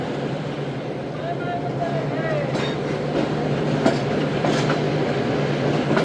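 The Shalimar Express pulls away from platform 2 at Rahim Yar Khan station, a steady rumble with rhythmic wheel clatter building slightly and a few sharp clanks toward the end.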